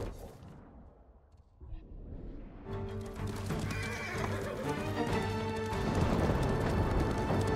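A horse in the Ghost of Tsushima video game whinnies and gallops, with rapid clip-clop hoofbeats building and growing louder under a tonal game soundtrack, no talking.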